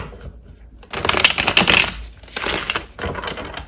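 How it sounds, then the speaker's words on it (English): Tarot cards riffle and shuffle in quick papery bursts, two main flurries separated by a short pause, close and fairly loud with no talking. "we'll do one last shuffle"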